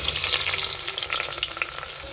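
Chopped onion frying in oil and ghee with whole garam masala, giving a steady, loud broadband sizzle with light stirring scrapes throughout and no voices.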